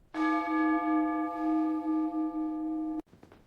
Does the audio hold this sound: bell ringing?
yes